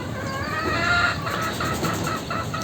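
Chickens clucking in a steady, busy murmur over constant outdoor background noise, no voices.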